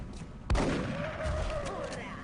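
A single sharp shotgun blast in XCOM Long War, followed by a rumbling tail and a rising whine-like tone fading over the next couple of seconds.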